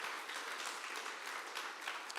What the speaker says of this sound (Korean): 하나님께 영광의 박수를 돌려드리겠습니다.